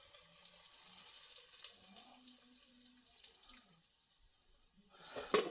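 Excess cooking oil poured off a pan while making chicken gyoza, giving a soft, steady liquid trickle with a few faint tonal clinks, then a louder clatter near the end as the pan or lid is handled.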